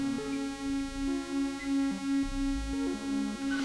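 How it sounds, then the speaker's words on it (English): Neutron analogue synthesizer drone: a steady buzzing tone that steps between a few pitches in small blips, with a soft, rhythmic swelling throb underneath. "Neutron drone."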